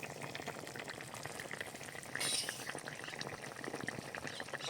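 Fish and vegetable curry with river tengra fish and winter vegetables bubbling in an uncovered pan, a steady close simmering hiss with a brief louder burst midway, no talking.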